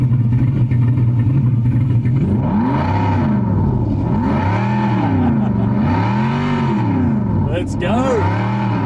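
Simulated V8 engine sound from a SoundRacer device plays loudly through a Kia Sportage's car stereo, a throaty synthetic roar sweeping up and down in repeated rev cycles, with a brief higher burst near the end.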